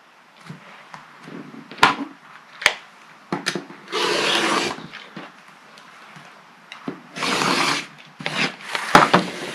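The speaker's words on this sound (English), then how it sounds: "I'm going to trim up my first corners, keeping it nice and square" A rotary cutter slices through quilt block fabric on a cutting mat in sharp rasping strokes, with short snaps and longer swishing cuts spaced irregularly between quieter handling noises.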